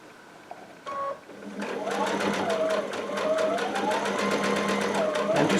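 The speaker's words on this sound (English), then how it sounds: "I'm just going to sew past where we started" A Baby Lock Altair sewing machine stitches quilt binding in a brief start and then a steady, close whirring run, with a person talking over it.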